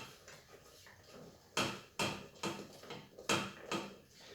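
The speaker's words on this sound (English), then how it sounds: "So I'll just give that a quick stir about." A spoon stirs a chocolate mousse mixture of melted marshmallows and milk in a bowl, giving a few quiet scrapes and then several sharper clinks against the bowl at irregular intervals.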